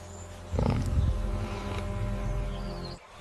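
A tiger roars in the wild: a loud, deep rumbling roar that rises suddenly and holds for about two and a half seconds before cutting off, over a steady background of insect-like buzzing.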